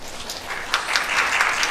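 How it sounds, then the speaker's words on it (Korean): Theatre audience applauding during a curtain-call stage greeting at the final performance of a musical, a dense steady wash of clapping that swells slightly. "큰 박수 부탁드리겠습니다."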